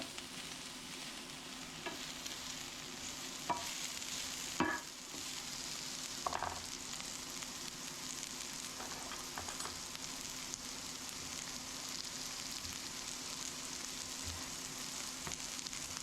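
Steak sizzles steadily in a hot pan, with occasional soft scrapes and knocks from stirring over the constant frying hiss.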